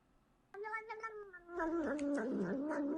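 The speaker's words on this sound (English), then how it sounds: "This cat is drinking milk out of a spoon, and that's the sound it's making." A cat makes a looping run of vocal meow-like cries while drinking milk from a spoon, starting after a brief quiet lead-in and rising into a louder, continuous wavering yowl, close and alone.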